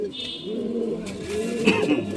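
Tournament pigeons kept at a home loft coo softly nearby, two or three throaty, rolling calls over faint room noise.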